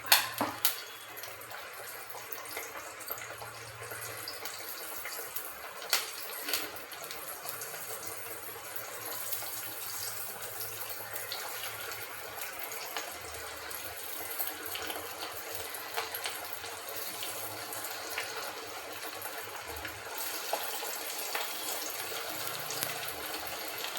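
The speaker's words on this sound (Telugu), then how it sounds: "నూనె వేడెక్కింది, ఇట్లా చిన్న ముద్ద చేసుకొని ఇట్లా వేయాలి" Small balls of dough dropped into hot oil sizzle and fry in a steady, continuous hiss, close and fairly quiet, with no talking over it.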